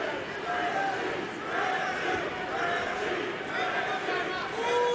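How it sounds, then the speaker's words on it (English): Crowd at an MMA fight cheering and shouting encouragement for a fighter, a steady dense roar of voices with a few rising calls, continuous and fairly loud throughout. "Got the crowd looking to try to give some kind of encouragement to Richie Smullen"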